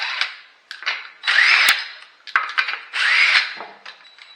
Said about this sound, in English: with an adapter for a 3/4 inch socket and then a 21mm socket. That's just to remove the rest of the lug nuts.